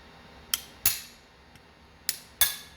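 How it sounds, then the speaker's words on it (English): A hammer strikes a brass punch against a warm gun slide to drive off its plate, giving four sharp metallic taps in two pairs, clear and close in a quiet room. "But I'm going to take a brass punch"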